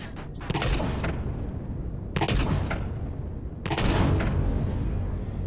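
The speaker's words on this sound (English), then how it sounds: "My plasma cannons." Three heavy bursts of plasma cannon fire in the video game Empyrion Galactic Survival, each a loud blast followed by a rumbling tail, spaced a couple of seconds apart, with no speech.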